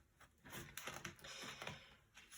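Tarot cards being shuffled by hand, soft riffling taps and papery flicks in quick irregular bursts, close and quiet.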